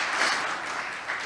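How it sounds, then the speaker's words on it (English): Brief, continuous wash of audience applause for panelists at a transit-focused walking and biking summit, steady and moderately loud with no talking. "I want to first give a round of applause to our panelists."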